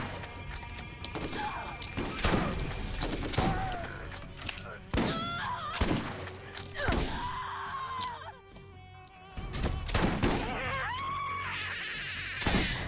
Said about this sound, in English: Just shooting like crazy.